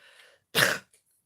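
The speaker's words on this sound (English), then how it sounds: "Sounds very much like a human cough." A single human cough, short and harsh, bursts out alone after faint murmuring, close and fairly loud, then a tiny trailing breath before silence.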